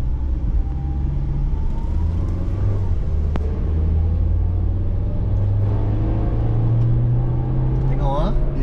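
A 2008 Toyota Rush 1.5 S automatic hums low and steady as it pulls away for a U-turn, with the engine note rising slightly and someone speaking throughout.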